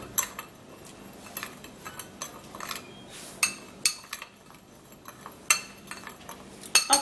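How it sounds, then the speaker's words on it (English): Indigo and hair dye powders are stirred in a bowl, giving scattered light clinks and scrapes of a utensil against the dish, quiet and irregular with short pauses between strokes. "So after putting all of this powder together, then the next thing is to mix it. You mix the powder."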